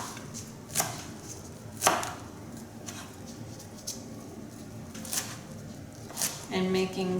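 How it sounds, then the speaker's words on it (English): A kitchen knife slices chiffonade strips on a cutting board, giving a handful of soft, separate chops spaced irregularly, near and fairly quiet against a low room background. "I'm just moving my knife right along my fingers."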